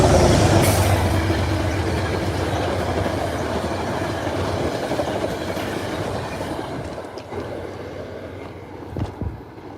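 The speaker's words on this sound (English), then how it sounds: "wouldn't that train come this way as well?" A train rumbles past close by with steady heavy wheel noise and rhythmic clatter that gradually fades over ten seconds, ending with a few sharp clanks.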